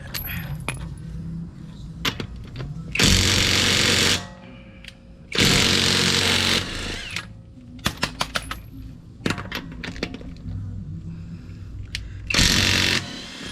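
A Harbor Freight power tool removes lug nuts from a Nissan Pathfinder wheel, giving three loud bursts of about a second each, separated by metallic clinks, rattles and handling noises close by.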